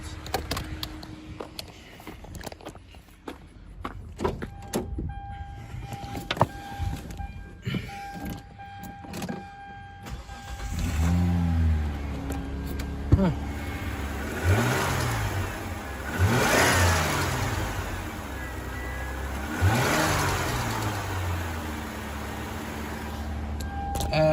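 A car engine turns over and catches, then settles into a steady idle with a slight rev, after some clicks and rattles; no talking.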